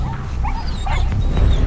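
In the video game Beyond Two Souls, a dog whimpers and gives small yips over a low rumbling game backdrop, with brief speech.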